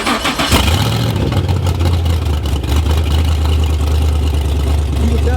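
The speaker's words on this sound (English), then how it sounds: "Let's see what an LS swap Porsche sound like, man." An LS V8-swapped Porsche engine cranks and fires up close by, then settles into a loud, steady, rumbling idle that runs unbroken to the end.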